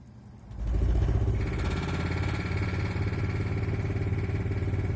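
Trailer heater switched on at its low setting kicks in with a rising whir, then settles into a steady mechanical hum with a faint rhythmic clatter.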